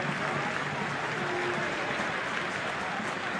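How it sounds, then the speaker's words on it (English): A stadium crowd at an A-League football match between Perth Glory and Newcastle Jets applauds steadily as an injured player gets back to his feet, a dense, continuous wash of distant clapping with a faint commentary voice underneath. "a warm round of applause for Brandon O'Neill"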